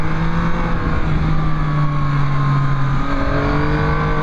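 Yamaha MT-09 motorcycle cruising along a road in a group, its engine humming steadily close by with a small shift in pitch partway through, wind noise underneath.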